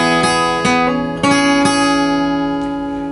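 An acoustic guitar with a capo in drop D plays a song intro up close: several bright strums, then a pinky hammer-on sounding a sustained note that rings and fades, with no voice over it.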